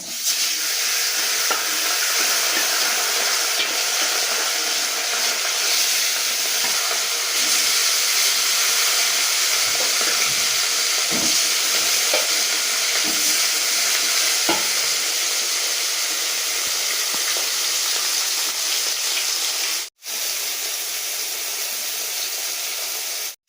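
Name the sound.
fish frying in hot oil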